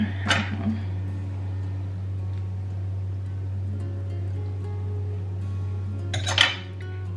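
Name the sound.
knife slicing through food on a plate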